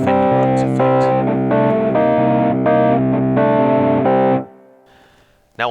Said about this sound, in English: they give you this kind of distorted Fender Rhodes effect